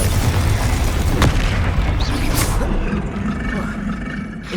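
Confringo explosion spell blasts in Hogwarts Legacy amid rapid combat casting, a loud rumbling boom with sharp cracks layered over continuous low roar, fading slightly toward the end.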